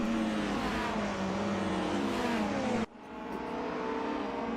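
Race cars roar down the long back straight of RR Raceway-Bridge in a sim racing game, a loud, continuous engine drone with rising pitch sweeps, briefly cutting out and then resuming.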